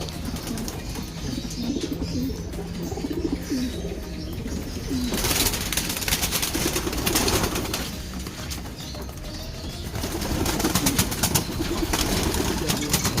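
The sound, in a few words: racing pigeons cooing before basketing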